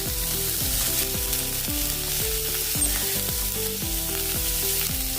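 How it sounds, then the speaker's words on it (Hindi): Onions and green chillies fry in hot oil with cumin for a soya chunks curry, making a constant close sizzle. Rhythmic stirring scrapes repeat about every half second. "अभी इसमें हम प्याज डालेंगे, साथ में हरी मिर्च भी डाल देंगे।"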